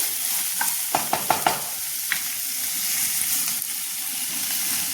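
Mixed greens bhaji with chana frying in a pan, a steady close sizzle with a quick run of sharp stirring scrapes near the start and softer spatula knocks later.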